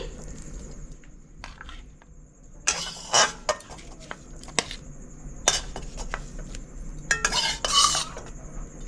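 Utensils scrape and clink against a pan and plate in a series of sharp, irregular knocks, with quiet pauses between, as fried red spinach is dished onto a plate.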